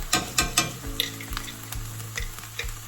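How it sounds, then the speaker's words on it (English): Minced garlic from a jar sizzles in a hot pan for beef enchiladas, a steady frying crackle broken by several sharp clinks and taps of a utensil against the pan, with no talking. "we're going to add our garlic that I minced up in a jar"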